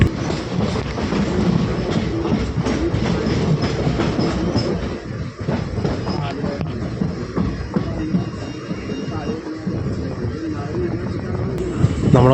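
The Tea Garden Express crosses the Bharathapuzha river at night, heard from inside a general class coach as a loud steady rumble with rhythmic clickety-clack of wheels on the rails that carries on throughout.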